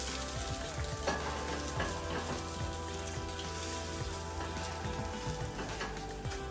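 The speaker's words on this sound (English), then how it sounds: "I'm going to flip the egg to let the other white set." An egg fries over easy in a pan, giving a steady, soft crackling sizzle throughout with faint scraping.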